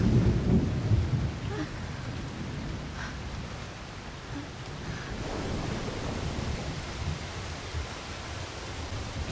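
Thunder rumbles heavily at the start over steady rain in the video game Fatal Frame: Maiden of Black Water, then the downpour continues as a dense, even wash with faint distant thunder beneath it.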